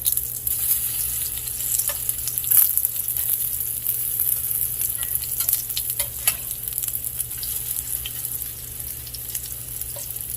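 Onion fritters frying in a pan of hot oil give a steady close sizzle and crackle, with a few brief sharper pops and spatters over the continuous hiss; nobody speaks.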